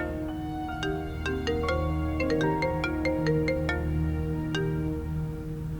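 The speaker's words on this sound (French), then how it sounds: "Si jamais c'est Purab, je vais le gronder au téléphone" A telephone ringtone plays a bright, tonal melody of repeated electronic notes, clear and steady, heard alone in an indoor scene without speech.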